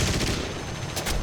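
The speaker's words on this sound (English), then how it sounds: "They are hitting me, mostly with machine gun" Rapid bursts of machine gun fire from enemy fighter planes in the War Thunder flight game, hammering close and loud in a continuous dense rattle over steady engine noise.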